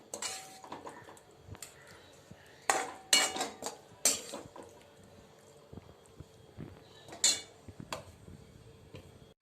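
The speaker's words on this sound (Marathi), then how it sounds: "कांद्याची पात मी आता डब्यात भरून घेते" A metal spoon scrapes and clinks against a steel tiffin box in short, irregular bursts as cooked spring-onion greens are spooned in, close by and fairly quiet.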